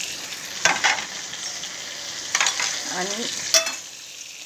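Potato and pea curry frying with turmeric, chili powder and spices in a pan, a continuous soft sizzle broken by a few sharp scraping stirs of a spoon; a brief spoken word sits over it.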